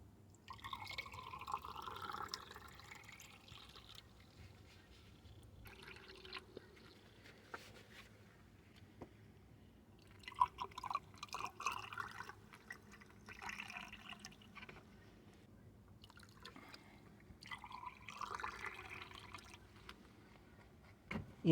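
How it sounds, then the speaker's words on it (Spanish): Water trickles and drips onto the exhaust valves of a Toyota RAV4 cylinder head removed to check a cylinder 4 misfire, with soft intermittent splashes and patters close by in a quiet workshop. "Vamos a poner agua en las válvulas otra vez."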